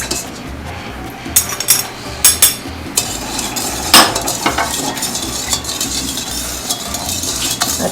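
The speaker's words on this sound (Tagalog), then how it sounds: "Yan lang ho, halo-halo lang." A spoon stirs sugar and salt into pandan water in a bowl, clinking sharply against the sides in uneven bursts with a soft swishing of liquid between the taps, close and fairly loud.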